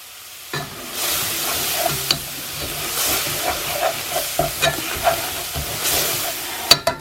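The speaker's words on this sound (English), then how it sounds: "Then we're going to put the lemon juice in." Chicken curry sizzling and frying in a pan as lemon juice goes in, with steady hiss and scattered stirring clatters, close and fairly loud.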